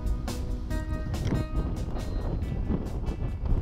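Strong wind gusting across the kite launch area at Sherman Island, a kiteboarding beach, roaring steadily into the microphone with loud buffeting throughout and no other clear sounds.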